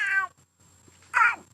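Two cat meows, a short first one and then a brief pause, followed by a second louder meow, both close and clear over a faint steady background hum.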